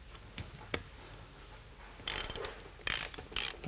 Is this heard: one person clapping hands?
no